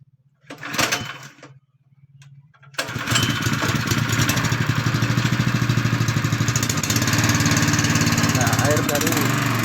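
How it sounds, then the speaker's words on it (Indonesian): A small engine driving a water pump for drilling a bore well with a 4-inch PVC pipe starts up and then runs steadily and loudly, drowning out a brief voice at the start. "Kita nyalakan mesin pompa airnya."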